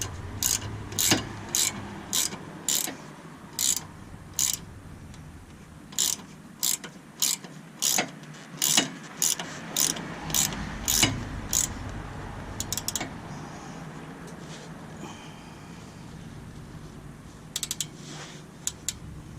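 A ratchet wrench tightens a Whiteline end link nut on a 10th-generation Honda Civic Sport hatchback, with bursts of rapid clicking repeated in short regular strokes, close and clear, with brief pauses between.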